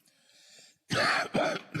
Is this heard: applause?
no